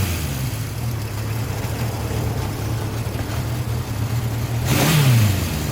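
A Honda CB750 Four motorcycle's low, steady engine idles with a throaty exhaust note, then briefly revs louder near the end before settling back.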